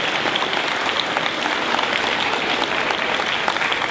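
At an 8th grade celebration, an audience gives the students a round of applause, a loud, dense, even clapping that runs unbroken throughout.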